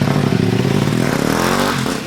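Off-road motorcycle ride with several bikers near a clean village in Assam: a loud, close engine revs and grinds continuously, with rattling clatter over a rough track.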